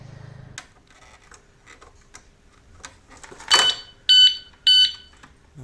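A motorcycle disc lock alarm gives two short, loud electronic beeps near the end, after a run of faint clicks, handling rattles and a brief rustle.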